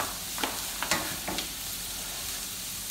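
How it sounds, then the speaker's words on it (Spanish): Onion frying in a pan, a steady soft sizzle close up with a few light stirring scrapes, no talk. "Vamos a esperar que se guise la cebolla bien guisadita."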